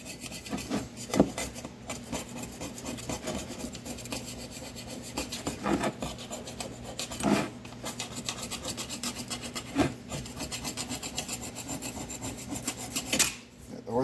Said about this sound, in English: So we got to clean off this old silicone here